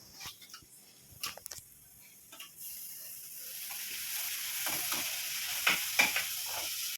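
Onions and tomato fry in a pan for egg podimas, a constant sizzle building after a few seconds while a utensil stirs and scrapes with intermittent clinks against the pan, close up.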